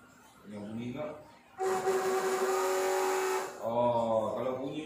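An RC boat's electric motor whirs into a loud, steady high whine with rushing noise for about two seconds, then cuts off. People talk just before and after it runs.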